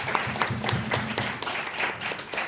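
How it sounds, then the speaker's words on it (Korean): A small congregation at a military church service claps briefly, a scattered, uneven patter of hands close by. "우리 그런 의미에서 서울 격려하는 박수 한번 치도록 하겠습니다."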